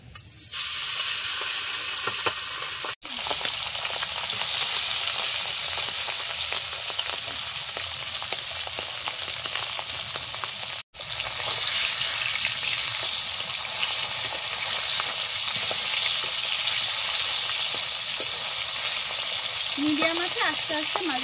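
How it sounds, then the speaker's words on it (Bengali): Hilsa fish tails frying in very hot oil, a loud, close, unbroken sizzle holding steady throughout, with two brief abrupt dropouts. "তেল খুব ভালোভাবে গরম হয়ে গেছে। এই ইলিশ মাছের লেজগুলো ভেজে নেব।"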